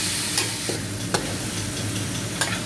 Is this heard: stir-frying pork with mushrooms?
yes